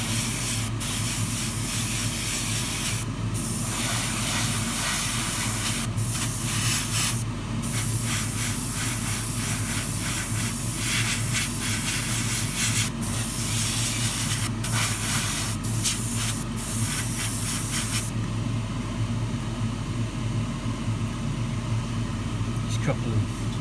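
Aerosol spray paint hisses in short bursts and longer sustained sprays over small model car chassis parts for a 1:24 Tamiya Ferrari LaFerrari kit, with steady background noise between bursts and no voices.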